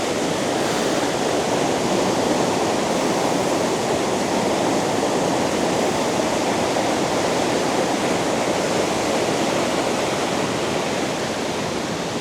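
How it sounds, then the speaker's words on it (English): Rushing water pours over Minnehaha Falls in Minnesota, a dense, steady roar that holds at an even volume throughout with no voices. "that sound of that rushing water."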